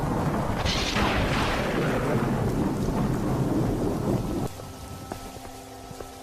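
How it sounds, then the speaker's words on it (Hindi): Heavy, unseasonal rain pours down as thunder rolls loudly overhead, a dense roaring wash that drops suddenly to a thinner patter near the end, with no voices. "तभी जोर जोर से बारिश शुरू हो जाती है।"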